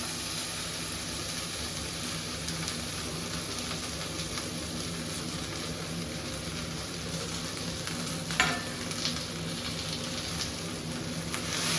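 Chopped okra frying in a little oil in a pan, a steady, close hiss and sizzle that runs unbroken, with one brief clatter partway through.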